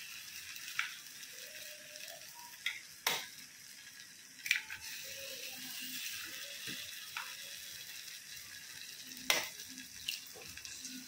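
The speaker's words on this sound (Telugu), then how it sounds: "ఇప్పుడు మనం అందులో గుడ్లు కొట్టేద్దామండి" Eggs cracked one after another into a pan of hot oil and grated carrot, giving a steady background sizzle broken by a few sharp cracks and taps spread through the clip.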